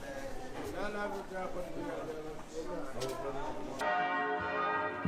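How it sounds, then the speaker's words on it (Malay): Bells of the Church of the Holy Sepulchre in Jerusalem's old city ring with someone speaking over them, then a clear, sustained bell tone rings out on its own near the end. "Gema loceng gereja Holy Sepulchre melenyapkan suara para pelawat"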